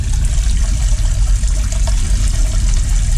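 Water pouring and trickling steadily into a fish tank while acclimating water for a giant gourami, a close, continuous splashing stream with no talk.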